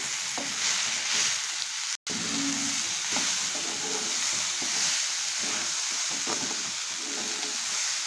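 Spices and salt are stirred into ingredients frying in a pan for vegetable semolina khichuri, giving a steady frying hiss with soft, repeated scraping strokes throughout and one brief dropout.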